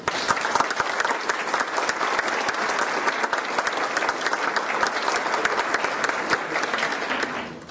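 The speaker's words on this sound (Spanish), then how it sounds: "Salvador Rueda y Alejandro Rosas, para quien pido un fuerte aplauso" Audience at a lecture on the centenary of the taking of Zacatecas applauds its two speakers, a historian and a museum director, with dense, steady clapping that is close and loud for the whole stretch.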